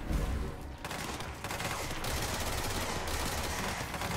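Sustained automatic gunfire in the video game Control, a dense, continuous rattle of rapid shots at steady loudness with no talking.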